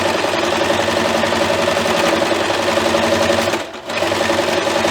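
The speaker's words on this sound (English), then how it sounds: "we're going to stitch around the top edge, again at 1/4 inch" A sewing machine stitches around the top edge of a layered fabric book sleeve, a loud steady rapid mechanical whirring that continues almost the whole time, briefly dipping near the end before resuming.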